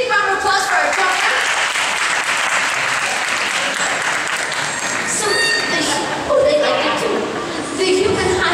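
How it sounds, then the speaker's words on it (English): An audience at an aquarium show in Chicago breaks into loud, sustained applause for a jumper, dense clapping with crowd murmur and a voice speaking over it toward the end. "Audience, big round of applause for our jumper."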